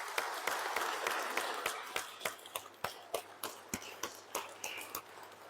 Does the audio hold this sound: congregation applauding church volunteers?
yes